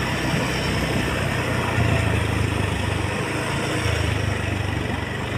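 Rented motorcycle engine running at a steady idle close by, a continuous low throbbing drone with slight surges and no talk.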